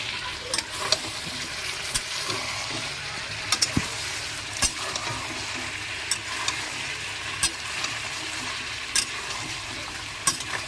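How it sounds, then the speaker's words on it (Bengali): Chicken and fried potatoes sizzle steadily in a frying pan while a spoon stirs them, with repeated scrapes and light clinks against the metal at a moderate distance and no talking. "এখন মাংসটা আমি নাড়িয়ে দেব"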